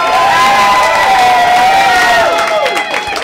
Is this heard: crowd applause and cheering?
yes